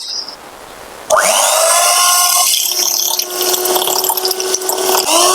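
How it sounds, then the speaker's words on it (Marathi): An electric hand beater starts up at low speed to whisk coffee and sugar in a bowl for cappuccino, a close motor whine that kicks in after a second of quiet and keeps running with scraping, rattling texture. "आपण या बिटरच्या साईने ना मिक्स करून घ्यायचंय तर ह्याचं स्पीड थोडं कमी ठेवायचं"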